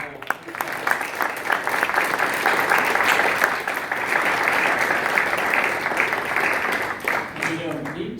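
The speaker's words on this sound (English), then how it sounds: "you deserve a round of applause because you're involved with the city" A candidate forum audience for city council applauds steadily in a dense, sustained wash of clapping that lasts throughout and eases slightly near the end, with voices faintly mixed in.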